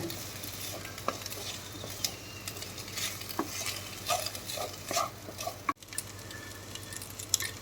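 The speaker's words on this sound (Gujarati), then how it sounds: "આ બધું જ આવી રીતે આમ સાતળી લેવાનું છે." Pasta and vegetables sizzle in a pan while a utensil scrapes and taps against it in irregular strokes, close up and with no talking.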